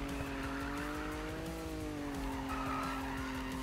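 A Nissan GT-R with about 200 horsepower drifts in the Need for Speed video game, a steady drawn-out tire squeal riding over a low, throbbing engine drone, fairly quiet and continuous throughout.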